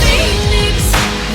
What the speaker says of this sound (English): I did decide to add that guitar lick sound effect